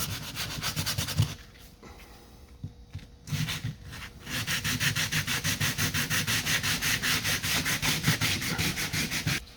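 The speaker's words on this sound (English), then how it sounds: "I'm sanding this edge down just a tiny bit." A varnished wooden trim edge is sanded by hand, first in a few scattered rubs and then in a steady rhythmic back-and-forth scratching, close and clear with no talk.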